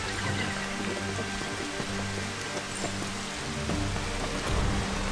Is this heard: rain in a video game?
yes